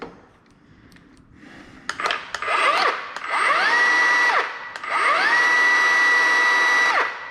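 A cordless saw with a rear-mounted battery spins up in several bursts, whining up to a steady high pitch and winding down between runs, with a click or two before it starts.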